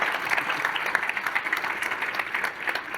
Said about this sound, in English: can we give this panel a round of applause